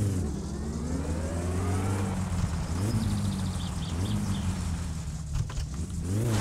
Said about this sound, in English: Oh yeah, I've got to rev it up.